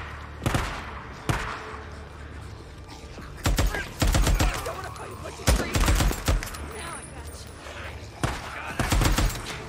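Bursts of gunfire in the video game Days Gone, several loud volleys of rapid shots separated by pauses, with voices talking between and over them.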